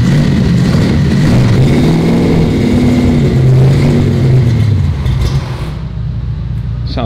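A Plymouth Duster's 340 engine revs through new mufflers, a loud, close, steady exhaust rumble with rising and falling pitch that eases off near the end, and a voice briefly speaks.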